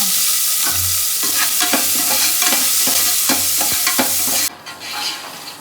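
Onions fry to golden brown in a hot pan, a loud, steady sizzle broken by repeated scraping stirs from a spoon, before the hiss abruptly drops to a softer level near the end.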